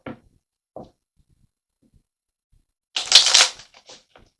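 A card drawn from a tarot deck during an energy reading: two soft, brief taps, then a quiet pause, then a crisp, close papery riffle and slide lasting about half a second, with a few faint ticks after.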